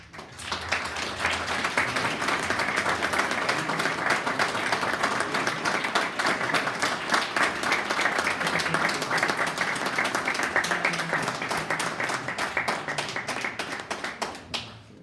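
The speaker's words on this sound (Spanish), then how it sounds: "le damos un aplauso a ti" An audience at a conference claps for a translator, steady dense applause lasting the whole stretch without pause, fading slightly at the end.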